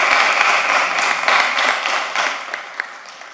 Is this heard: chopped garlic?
no